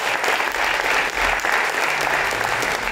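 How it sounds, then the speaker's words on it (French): An audience applauds the Collège Ahuntsic team at a student science competition, steady dense clapping filling the room without pause, loud and continuous throughout. "vous pouvez applaudir le Collège Onsic"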